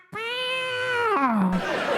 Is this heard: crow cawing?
no